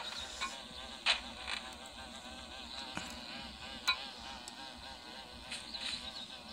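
A bee buzzes in the Walk Master video game, a steady close drone with small sharp game blips over it and no voices.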